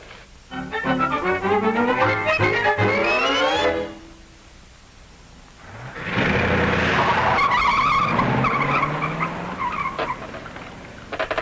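A car drives hard and skids, tires squealing loudly in two long bursts separated by a short quieter gap, engine roar rising beneath, fairly close and with no voices.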